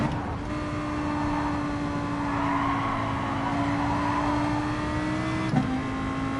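A race car engine droning steadily at high revs in Gran Turismo Sport during a NASCAR-style race, passing a Mercedes SLS, with a sustained whine and a brief bump near the end.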